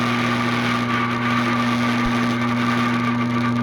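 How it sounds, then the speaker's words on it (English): A homemade high-power microwave, the Macrowave, runs while melting titanium, giving off a loud, steady electrical hum and buzz with a constant drone that does not change throughout. "This stuff is quite hard to melt, but I think the microwave can pull it off."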